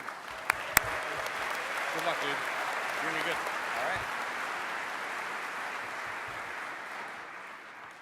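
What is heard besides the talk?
audience applause for speaker at DEF CON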